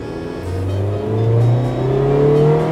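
A Toyota TownAce camper van pulls away from a red light at full throttle, its engine drone rising steadily in pitch with a brief dip at a gear change, heard loud from inside the cabin without talk.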